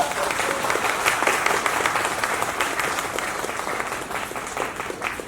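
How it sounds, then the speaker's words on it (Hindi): Loud, dense audience applause filling the room in one continuous burst, many hands clapping at once and tapering only slightly toward the end. "तालियां बजाओ एक जोरदार"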